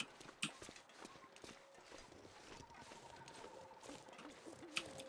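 Owl hooting in a video game, soft faint hoots, a higher call and a deeper one, mixed with light clip-clopping hooves and scattered clicks in a quiet scene.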